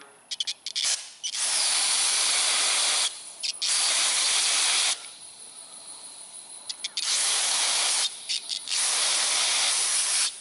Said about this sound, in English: I'm going to let it cool off just a bit, then I'm going to hit it with some carb spray.